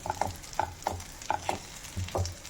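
Katla fish oil fritters frying in a pan with rhythmic stirring and turning scrapes over a low sizzle, about eight short strokes in under three seconds, close and moderately loud, no voices.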